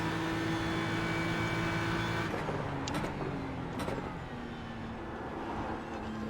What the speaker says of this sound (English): A little too much curbing there.